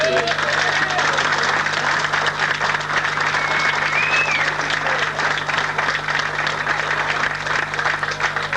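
A round of applause from the crowd at a 1986 husky race awards presentation in Aviemore, sustained and dense throughout with steady clapping.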